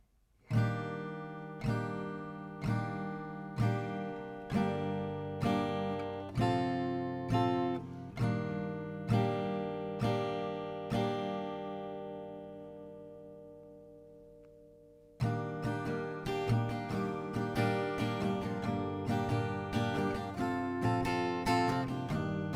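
Acoustic guitar strumming chords of a song's chorus in a steady rhythmic pattern, with one chord left ringing out to fade before the strumming resumes, close and clear with no talking.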